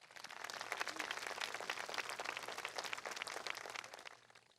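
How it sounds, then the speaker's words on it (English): Sustained applause from an audience at a high school groundbreaking ceremony, dense steady clapping at moderate distance that fades slightly at the end, with no talk over it. "Let's give another round of applause for all of our students here"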